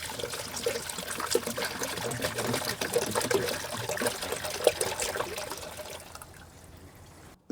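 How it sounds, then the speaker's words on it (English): Liquid drips and trickles steadily from a car engine after the petcock is closed, a close, continuous splashing patter that fades toward the end. "And we're dripping all over the place here."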